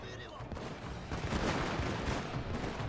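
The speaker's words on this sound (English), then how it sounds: "I want to see more firing." Musket volleys from massed troops in Total War: Shogun 2, a continuous dense crackle of overlapping gunfire with battle din, loud and chaotic throughout.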